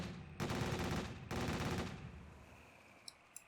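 Two long bursts of rapid automatic fire ring out from a light tank build in Garry's Mod, each about a second, then a fading tail and two faint clicks, with no talk.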